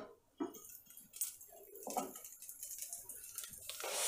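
A metal lid lifts off a kadhai of freshly popped popcorn with a few quiet clinks and scrapes of metal on metal, close and soft, in an otherwise hushed kitchen.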